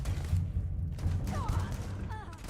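Rapid gunfire and explosive thumps in a Starfield firefight, a dense steady barrage of shots and low booms with faint voice-like chatter mixed in.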